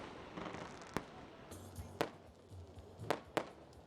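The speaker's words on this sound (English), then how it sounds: "The Millennium Tower in Abuja is venue of these fireworks" Fireworks go off at Millennium Tower in Abuja during a presidential inauguration event, several sharp distant bangs spaced irregularly over a faint crowd-like background murmur.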